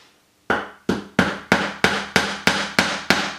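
Nails being driven into a board for a string art heart with a hammer: nine sharp, evenly spaced strikes, close and loud, each ringing briefly before the next blow.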